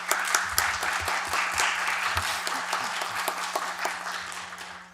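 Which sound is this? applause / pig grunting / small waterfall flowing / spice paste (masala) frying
applause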